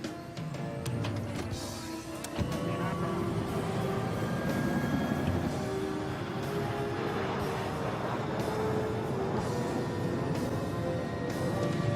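An airliner takes off, its jet engines building into a steady, loud roar that holds for several seconds after a short quieter lead-in.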